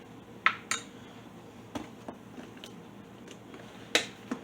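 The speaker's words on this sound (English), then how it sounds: "I'll wipe out my measuring spoon really quick." A measuring spoon being wiped clean in a home kitchen while making beef and broccoli gives off a few sharp metallic clinks and taps, scattered and close, against a quiet background.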